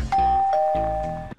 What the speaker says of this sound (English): It won't stop ringing the doorbell.